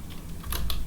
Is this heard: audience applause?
no